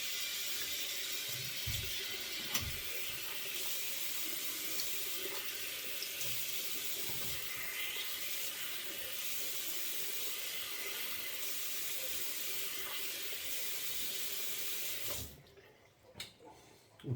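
A water tap runs steadily into a sink while someone rinses off after shaving, a close, constant hiss and splash that goes on for about fifteen seconds and then stops.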